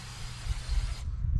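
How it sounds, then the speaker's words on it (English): A can of silicone spray fires a steady, close hiss onto a car's air intake tube during engine work. It lasts about a second, then cuts off abruptly. "Putting some silicone spray on my air intake tube."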